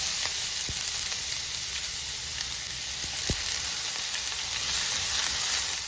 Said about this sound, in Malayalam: ഇതിലേക്ക് നമുക്ക് സവോള ചോപ്പ് ചെയ്തത് ഇട്ട് കൊടുക്കാം